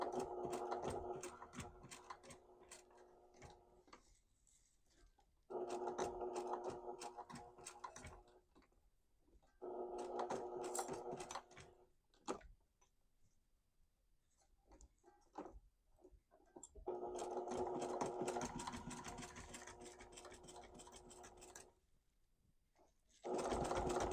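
A sewing machine stitches across bulky elastic on a quilted charging cord organizer. Several runs of rapid mechanical whirring are broken by short pauses, and quieter ticks come between bursts.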